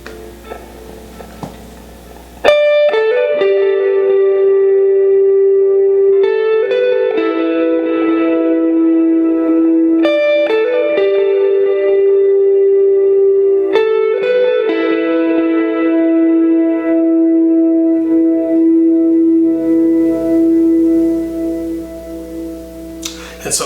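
Electric guitar through reverb and delay effects, played as a clean production tone: sustained chords ring out and repeat, trailing echoes and wash, loud and alone with no voices.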